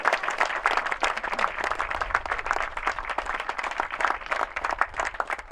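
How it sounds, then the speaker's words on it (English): An audience at a career pathway graduation celebration applauds, a dense, steady patter of many hands clapping together, moderately loud and sustained throughout with no voices over it. "give yourselves a round of applause for a job well done"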